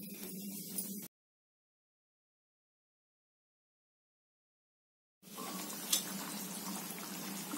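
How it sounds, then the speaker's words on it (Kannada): Okra gravy bubbles gently in a pan on the stove, a faint, soft simmering fizz that cuts out into silence for several seconds and then resumes. "ಸ್ವಲ್ಪ ಚೆನ್ನಾಗಿ ಕುದಿಲಿ"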